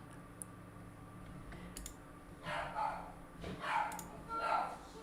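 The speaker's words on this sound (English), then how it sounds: "My dog's being loud." A pet dog barks indoors, several loud, close barks in quick succession after a quieter start. Keyboard typing clicks come earlier and run underneath, at a home computer desk.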